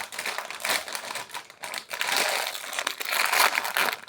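Crinkly plastic wrapping around a Halloween burger treat is torn and crumpled open, a close, continuous rustling and crackling that swells and dips over several seconds with no talking.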